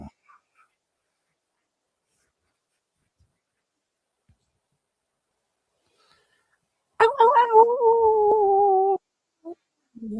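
A short dog howl, played as a sound effect during a live football watch-along, rises suddenly out of near silence and holds for about two seconds, close and fairly loud.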